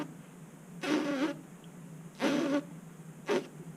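Three short, thin and weak lip buzzes for baritone, each lasting about half a second with gaps between them, soft and fluttery rather than full-toned.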